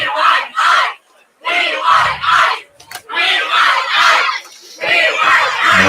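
A home crowd at a high school football game between Iroquois and Eisenhower, including the Pigpen student section, yells in loud rhythmic chant-like bursts with short gaps between shouts.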